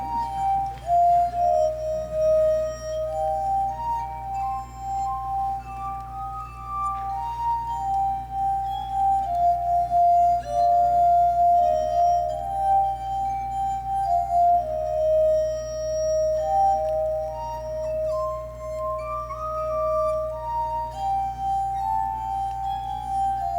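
A glass harmonica plays a slow, sustained melody of pure, ringing tones that glide between notes over a steady low hum, clear and close with no talking.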